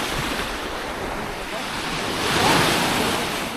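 Sea surf rolling onto the shore at Fig Tree Bay beach in Protaras on a sunny March day, a steady broadband wash with one wave swelling louder midway, close by and alone, with some wind buffeting the microphone.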